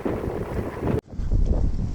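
Wind buffets a microphone while cycling on a riverside bike route, heard as loud, low, gusty rumbling that cuts out abruptly midway and then returns as strong as before.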